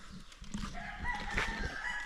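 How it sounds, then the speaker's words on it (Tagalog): A rooster crows at moderate distance, with chickens clucking around it against a busy outdoor background. "Ang daming alagang manok doon."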